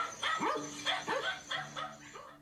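A dog barks in a quick series of about four sharp, fairly close barks with a slight whimpering edge, with no talking over them.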